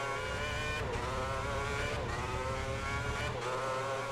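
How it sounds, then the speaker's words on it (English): Formula 1 car engine in the F1 2010 racing game, a high revving whine held steady with brief dips as gears shift, loud and continuous with no talking. "There's another car in the pits that he's now passing."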